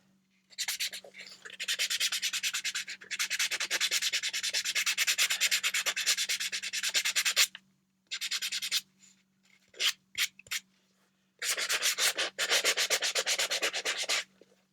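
Sandpaper rasps hard against painted Dansko clogs to rough up the old finish. The scrubbing comes close and loud, first as one long stretch and then in shorter bursts broken by pauses.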